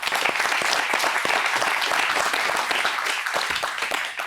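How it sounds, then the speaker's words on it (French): An audience at the CB Innovation Trophies 2022 award ceremony gives a thick, continuous round of applause lasting about four seconds, loud and even throughout, with no speech over it. "On peut vous applaudir."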